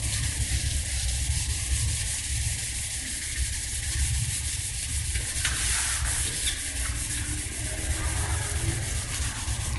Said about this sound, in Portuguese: Escutando um barulhinho da lixa, porque ainda tem alguma sujeira aqui.